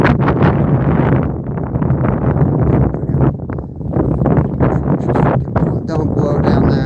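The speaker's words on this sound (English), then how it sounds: "Holy cow, that was a gust." A strong gust of wind buffets the microphone outdoors by the water on a cold winter fishing outing, a loud, continuous roaring rumble that swells and dips throughout.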